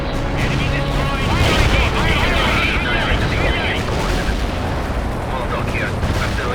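Artillery strike in the war strategy game World in Conflict: dense, continuous rumbling barrages and booming impacts, loud and close, while radio-style voices talk over the battle.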